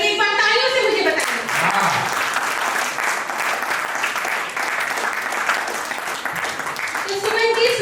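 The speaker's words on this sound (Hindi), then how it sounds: "एक बार तालियों से मुझे बताइए।" Audience at a Hindi kavi sammelan poetry gathering bursts into sustained applause lasting several seconds, dense and even, with a host's voice speaking briefly at the start and again as the clapping fades.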